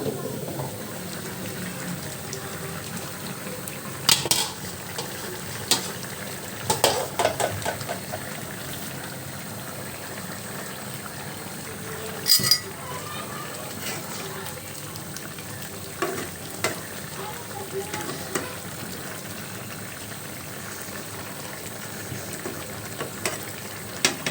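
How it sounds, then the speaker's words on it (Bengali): Guri fish curry bubbling and sizzling in a pan while a spoon stirs it in short scraping bursts, steady simmering underneath, close and moderately loud, with no talking. "10 মিনিট হয়েছে, এখন আমি আবার একটু নেড়ে দেব।"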